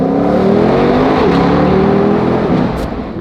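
A supercar accelerating hard, its engine revving in a loud, sustained rising roar heard from close by, with no talk over it.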